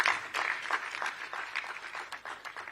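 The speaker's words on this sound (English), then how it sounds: "Please a round of applause for him once again." An audience applauds a speaker at a June 12 democracy event, with steady scattered clapping from a crowd heard at moderate distance for a few seconds.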